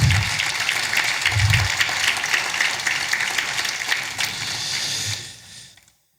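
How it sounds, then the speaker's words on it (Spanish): A church congregation applauds during a worship service, dense sustained clapping filling the room for about five seconds before it fades out quickly at the end. "Ahora sí, amada iglesia, un aplauso al Señor."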